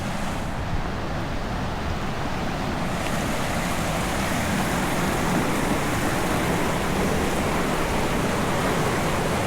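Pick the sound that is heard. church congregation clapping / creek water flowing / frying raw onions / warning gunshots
creek water flowing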